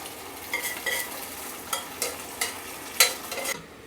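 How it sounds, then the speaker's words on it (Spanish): Bacon is stirred into a carbonara sauce in a pan, with soft sizzling under a series of scraping, clinking stirring strokes that come at irregular intervals, close by and with no talking. "Lo único que vamos a terminar de hacer es incorporar nuestro tocino."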